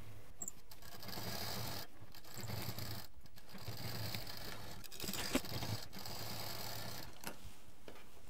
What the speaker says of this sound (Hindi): ये जो पाइपिंग का जो किनारा आया है उसके ऊपर यहाँ पर मशीन चला देंगे